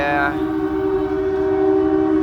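A train's steady horn-like tone drones continuously over a low rumbling engine, close and loud throughout, with no pauses.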